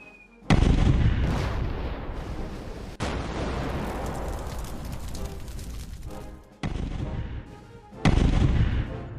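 Artillery shelling in a war film about a naval bombardment, with heavy booming blasts rolling one after another into a dense, continuous barrage of loud explosions and rumble.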